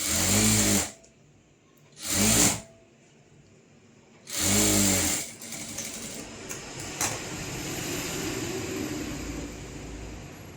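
A sewing machine stitches a blouse with long, loose stitches in three loud whirring bursts of about a second each, separated by pauses, followed by a quieter stretch of faint background noise.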